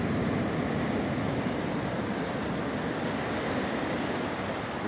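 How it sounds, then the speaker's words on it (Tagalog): Strong sea surf at a beach resort in San Juan, La Union, rolls in as a constant heavy roar of breaking waves, mixed with gusty wind buffeting the microphone and no talking. "Medyo malakas ang alon."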